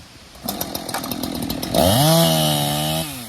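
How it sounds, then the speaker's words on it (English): A chainsaw cuts through wood during horse logging, the bar's top edge throwing sawdust away: a sputtering idle rises into a loud, sustained high-revving whine as it bites in, holding steady for over a second before easing off. "We cut with the top so it throws the sawdust away."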